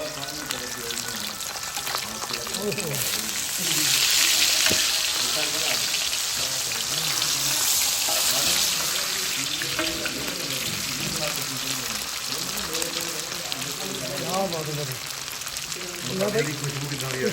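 Masala fish frying in oil on a tawa, giving a continuous close crackling sizzle, while a person talks over it throughout.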